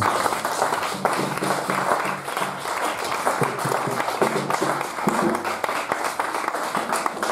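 A church congregation applauds and acclaims the Lord, with sustained clapping and crowd noise over a steady musical accompaniment throughout.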